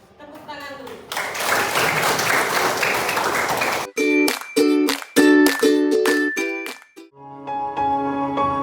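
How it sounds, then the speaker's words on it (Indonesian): A classroom audience bursts into applause during a teacher's lesson, a dense clapping roar lasting about three seconds before giving way to bright, chiming music. "Tepuk tangan dulu."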